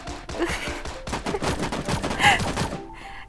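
Gunfire in the Sausage Man shooting game crackles in quick bursts and volleys, with thuds between shots and a voice briefly under the action.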